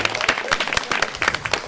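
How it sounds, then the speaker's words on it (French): Applause from a comedy show audience, a steady patter of many hands clapping at moderate volume with a few louder claps poking through, over about two seconds. "je pense qu'on peut les applaudir bien fort"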